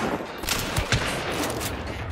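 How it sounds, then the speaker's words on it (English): A few heavy gunshots ring out in the video game Hunt: Showdown, two close booming reports in quick succession over a dense, noisy background. "Let me shoot him a little bit."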